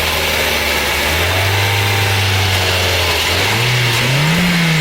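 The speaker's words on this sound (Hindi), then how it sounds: "थोड़ी देर रेस रखेंगे" A Toyota Corolla engine with a knocking problem runs loud and close, holding a steady idle before revving up in a rising, droning surge.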